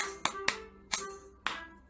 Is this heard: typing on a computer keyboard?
no